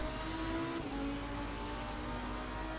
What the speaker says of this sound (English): One of the best things about this game, apart from the overall physics, is the sound of the car and the environment.